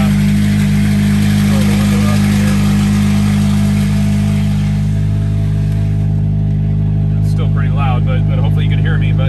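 A 2003-2007 Honda Accord with a SULEV catalytic converter starts and settles into a steady idle, its engine hum loud and close throughout, with a few faint clicks near the end.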